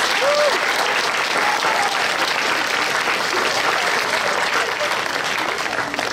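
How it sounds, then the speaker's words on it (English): A crowd at a school district solar ribbon cutting ceremony breaks into loud, sustained applause, a thick continuous clapping that stays strong for about six seconds, with a brief voice at the start. "Let's give them a huge, big round of applause."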